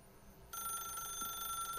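In the video game The Stanley Parable, a telephone begins ringing abruptly partway through. Its bright, steady electronic tone is clear and fairly close, with nothing else under it.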